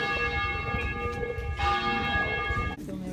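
A church bell rings with a clear, sustained, resonant tone that layers several overlapping strikes, loud and fairly close, with faint background activity.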